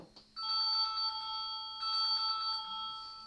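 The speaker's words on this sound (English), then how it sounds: "Look, that's somebody calling us now." A telephone rings with an incoming call, two bright electronic trills of steady, evenly pulsed tones, fairly loud and close, with no talking over them.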